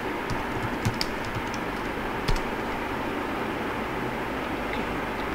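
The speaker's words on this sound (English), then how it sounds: "I'll just open a new Word. Have some random text." Light, sparse keyboard typing with a few distinct clicks on a computer keyboard over steady background hiss, fairly quiet and close.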